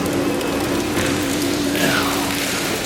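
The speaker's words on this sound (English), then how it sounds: "boy, it started raining outside" Rain falls outside a gallery space as a steady, even hiss with a low background hum, continuous and unbroken throughout.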